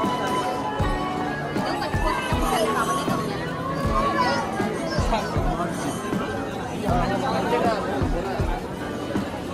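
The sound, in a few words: crowd chatter at Shirdi Sai Baba temple on a Sunday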